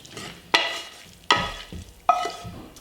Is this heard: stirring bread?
yes